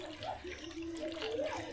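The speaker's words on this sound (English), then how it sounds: "I'll just add it onto this tray for washing the meat." Water from a cooking pot poured onto a tray used for washing meat, a soft continuous splashing and trickling that runs steadily for under two seconds at close range.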